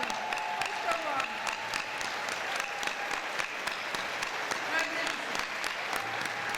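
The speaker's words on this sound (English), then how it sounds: "Another round of applause for Maestro" Veterans honoring ceremony crowd gives a steady round of applause for a maestro, many hands clapping continuously with a few voices calling out over it.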